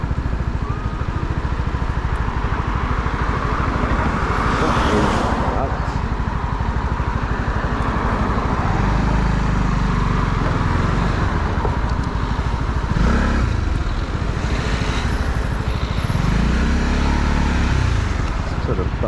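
A Honda CB125R motorcycle ridden through Belfast traffic, its engine droning loudly and continuously and rising and falling as it shifts quickly through the gears, with someone talking over it at intervals.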